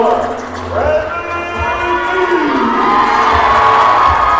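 A big crowd at a high school boys' basketball game cheers loudly in the gym as the starting lineup is introduced, with whoops and shouts rising and swelling, and an announcer's voice cutting through the noise.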